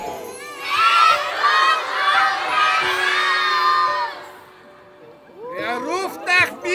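Children loudly calling and shouting together outdoors at a Christmas tree diving event on Mondsee, a sustained excited chorus that fades, then someone speaks in reply.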